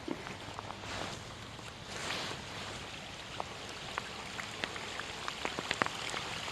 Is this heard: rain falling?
yes